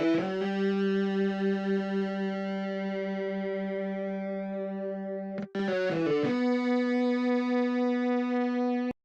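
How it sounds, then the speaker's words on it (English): A sustained lead melody from GeoShred on an iPad, run through an AB Chorus effect, holds long synthetic notes with a brief break and pitch drop midway before settling on a steady tone, loud and alone. "just load AB Chorus with an instance of GeoShred in my iPad and just recorded a little melody here"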